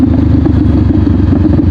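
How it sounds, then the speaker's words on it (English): A 2020 Honda CBR500R motorcycle with an aftermarket exhaust rumbles steadily close by, a loud, deep, throaty engine drone with a fast pulsing beat and no talk. "I love how it sounds with this exhaust. It's like real throaty and deep."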